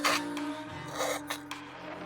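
Rough rasping strokes as the edges of a Razer Viper mouse are trimmed: a strong opening scrape followed by several shorter, quieter passes, close up, over a faint steady hum.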